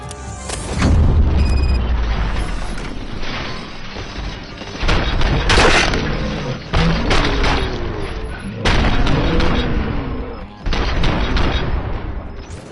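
Heavy gunfire and booming explosions in the Robocop: Rogue City video game, loud repeated blasts and bursts coming in waves with short pauses, while voices talk over the fighting.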